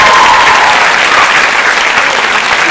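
Audience applauding an improv comedy team at a live French humour show, a dense, loud burst of clapping that fills the whole stretch without letup.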